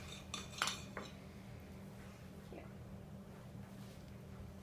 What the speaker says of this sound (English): So he's gonna cut it, and then I'll eat it.